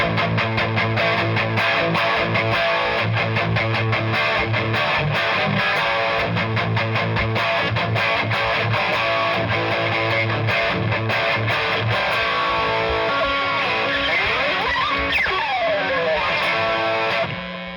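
Heavily distorted electric guitar through an amplifier, dense chugging riffs played continuously and loud, with a sliding bend near the end before it cuts off.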